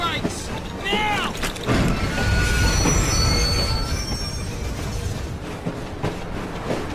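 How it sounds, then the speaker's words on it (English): Train brakes squeal in the Assassin's Creed Syndicate video game: sharp, wavering metallic shrieks rise over a loud, steady rumble of rolling railway cars for several seconds. "Engage the brakes!"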